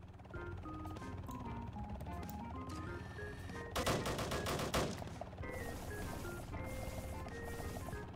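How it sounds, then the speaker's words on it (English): Missiles fired at random in an online raiding game built around a battle cruiser, a dense volley of rapid launches and blasts bursting loudly for about a second near the middle, set amid continuous game music and effects. "Just fire some random missiles."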